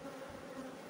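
Honey bees hum in a steady, continuous drone at the hive, faint and unbroken, with no voices.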